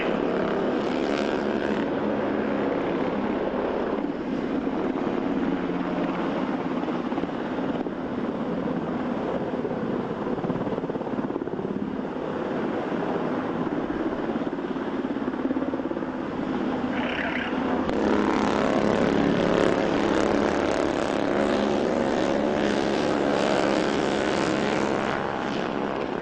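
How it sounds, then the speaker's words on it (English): An MH-60 Black Hawk helicopter passes over a channel during a special operations capabilities demonstration, its rotor and engine roar steady, loud and continuous for the whole stretch, with no talking. "an MH-60 Black Hawk helicopter will helocast personnel into the channel"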